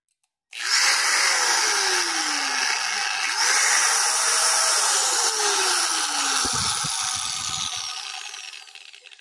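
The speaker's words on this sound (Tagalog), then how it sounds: "Normal na yung ganyan tunog sa grinder." A repaired Black & Decker angle grinder starts up and runs at a loud, steady high-pitched whine, close up and alone, with a slowly wavering tone before it winds down.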